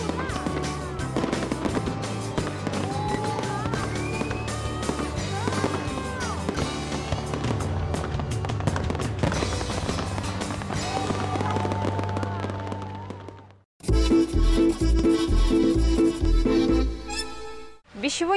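Fireworks at a village harvest festival crackle and pop in dense bursts over concert music and crowd noise, then a sharper run of bangs follows a brief pause near the end.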